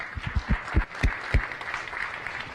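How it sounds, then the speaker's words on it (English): Audience applause at a science café talk about urban beekeeping, a few sharp separate claps at first, then a softer, thinner patter of clapping fading out. "Let's give Ben one more round of applause."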